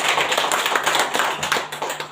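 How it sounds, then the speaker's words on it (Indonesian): A crowd claps at an Indonesian school event, a dense, loud run of hand claps close by that carries on evenly throughout. "Tepuk tangan untuk sebuah kelembutan"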